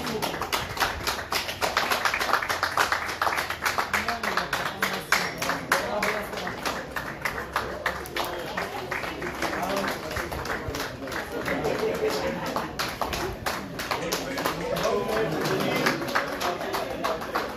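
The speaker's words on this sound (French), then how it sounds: "Et on applaudit tout le monde" Guests at a civil wedding ceremony applaud the entrance of the civil registry officers with continuous, lively clapping that lasts throughout. Crowd voices and chatter mix in underneath.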